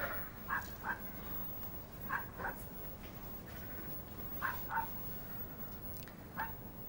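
Dogs bark in short paired yips scattered across the stretch while playing in snow on a cold farm, the barks moderately distant over a constant low outdoor rumble.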